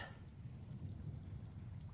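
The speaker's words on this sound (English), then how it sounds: "I hear rain." Steady rain in a video game, with a low rumbling wash, continuous and moderately loud throughout, with no voices.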